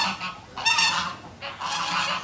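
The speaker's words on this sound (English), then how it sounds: "Here comes the goose fight again." Geese honk loudly while fighting, with repeated harsh, overlapping bursts of nasal calls that rise and fall close by. No one speaks.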